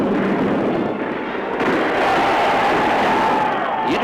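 Gunfire and blasts rumble through a dense, continuous battle din in an old film's staging of the storming of the Winter Palace, loud and unbroken with a crowd-like roar underneath.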